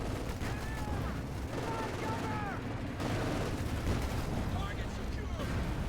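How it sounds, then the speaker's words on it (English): Bursts of MG42 machine-gun fire in the real-time strategy game Company of Heroes 2, battlefield gunfire with explosions mixed in, steady and fairly dense throughout, heard alongside game effects and ongoing commentary. "see MG42 flying away there, ripping through the Pioneer with ease."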